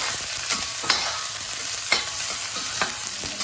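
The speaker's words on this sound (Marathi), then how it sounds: "लाल होईपर्यंत याला आपण छान असं परतत राहूया।" Chopped onion and Kashmiri chilli sautéing in a pan, a steady close sizzle broken by regular scraping stirs of a spatula, with no voices.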